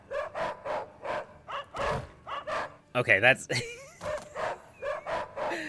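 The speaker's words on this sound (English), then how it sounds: "I'm no longer getting a dog unit." In a roguelite Total War-style strategy game, a dog unit yips and barks in short repeated bursts, sharply squealing in the middle, mixed with someone talking.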